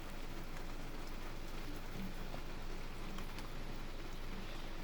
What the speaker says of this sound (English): The most impressive part is definitely the rain.